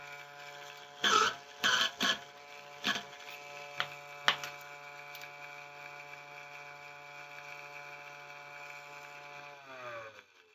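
A Lyman Case Trim Xpress trims brass cartridge cases. Short bursts of grinding and cutting are followed by a steady motor hum that winds down near the end. The sound is close and fairly quiet, with no talking.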